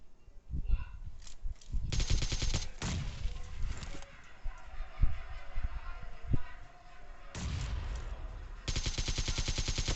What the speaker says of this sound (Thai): อุ้ยผมยิงอะไรเนี่ย